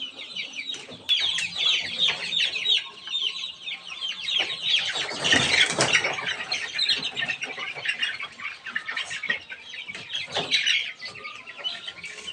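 Chicks and chickens being dewormed cluck, peep and squawk continuously, a busy flock close by with a louder burst of squawking partway through.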